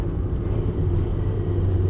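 A manual car's engine drones steadily and loudly as the driver heel-and-toes a rev-matched downshift on approach to a bend, a low continuous rumble with no one talking.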